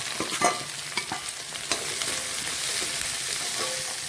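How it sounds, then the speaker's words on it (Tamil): Bottle gourd sautéing in a pan with shallots for chutney, giving a steady close sizzle with a few spatula scrapes and taps near the start, no voices. "சொரக்காய் நல்லா வதங்குற வரைக்கும் நம்ம வெயிட் பண்ணணும்"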